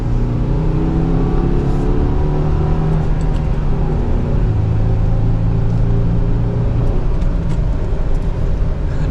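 A 2023 Subaru Crosstrek with a six-speed manual pulls hard from second gear, its engine rumbling and rising steadily from inside the cabin, loud and continuous with no talk.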